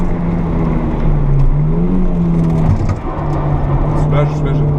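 Honda Civic ED7 accelerating around the Fontenay-le-Comte race circuit, a steady loud engine drone with rising and falling pitch, heard under continuous in-car coaching talk.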